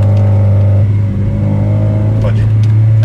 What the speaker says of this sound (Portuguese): chegou a parte do túnel, onde vai ver a ressonância do carro no túnel